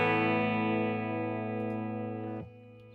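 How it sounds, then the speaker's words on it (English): A guitar chord from a Gibson Noel Gallagher NG-355 is held by a Kemper freeze effect, ringing as a steady, sustained drone that fades slightly before cutting off near the end, with faint clicks. "There's the freeze. So I just froze that chord."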